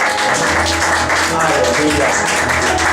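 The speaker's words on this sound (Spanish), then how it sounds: "Denle un aplauso al Señor." Church congregation applauding and clapping together during a worship service, a steady, dense wash of hands under music, continuous and loud throughout.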